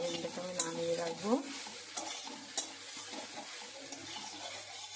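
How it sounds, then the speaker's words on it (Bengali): Soya chunks fry in a pan with a soft, continuous sizzle and a few scraping stirs, heard close and fairly quiet, with no voices. "এবার সয়াবিনটা ভাজা ভাজা হয়ে গেছে"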